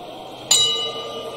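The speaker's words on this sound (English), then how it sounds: "And there goes the bell for round one of this encounter" A boxing ring bell strikes once to open round one at a professional boxing match in Ghana, a single bright clang that rings out and slowly decays over low crowd noise.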